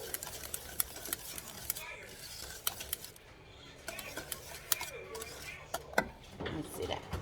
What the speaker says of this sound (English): But I'm gonna let that stir.